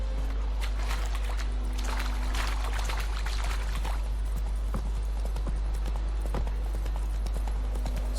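In The Witcher 3, the horse Roach walks with a steady clip-clop of hooves, close and continuous, over a low constant hum and rustling ambience.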